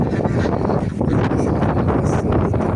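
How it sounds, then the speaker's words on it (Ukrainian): Loud, steady wind buffets the microphone, a dense low rumble and roar lasting throughout with no clear voices. "ой, вітер."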